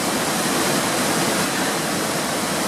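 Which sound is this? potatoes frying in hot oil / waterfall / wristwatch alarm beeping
waterfall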